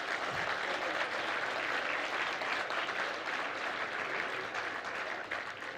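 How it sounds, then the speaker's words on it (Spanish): Steady applause from an audience at an education forum conference, dense clapping that fills the whole stretch at an even, fairly loud level with no pauses. "un aplauso muy especial para ella"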